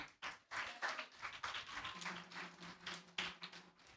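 A church congregation claps loudly for its youth, a dense burst of many hands with irregular surges and a short gap near the start, plus a low humming tone underneath partway through.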